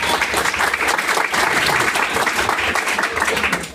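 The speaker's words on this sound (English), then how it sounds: "Let's give Justin a round of applause" A meetup audience claps for a presenter in a room, a brief, full round of applause at steady strength from start to finish.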